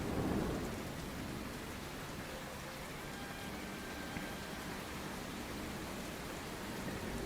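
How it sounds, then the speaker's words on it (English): A video game thunderstorm with steady rain hissing throughout, soft rumbling thunder beneath it and no loud lightning crack, an even wash of weather with no talking. "The lightning is surprisingly quiet here."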